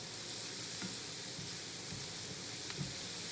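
Food seasoned with Cajun spices frying in a pan, giving a soft, even sizzle that crackles steadily and fairly faintly, with a couple of small clinks and no one speaking.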